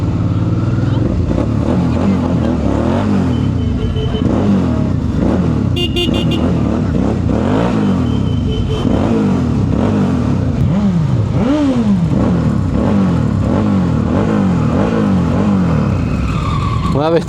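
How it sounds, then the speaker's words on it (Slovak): Many motorcycles ride past in a dense procession at a motorcycle season opening event in Liptov, Slovakia, engines droning and revving continuously and loudly throughout, with occasional rising and falling passes and voices mixed in. "Na mraky motoriek strašne veľa."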